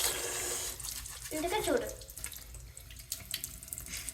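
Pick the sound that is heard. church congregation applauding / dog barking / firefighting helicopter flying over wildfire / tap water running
tap water running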